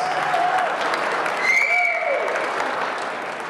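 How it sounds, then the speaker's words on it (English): A crowd applauds steadily throughout, dense clapping with a few whistles or cheers rising over it. "Give her a huge round of applause"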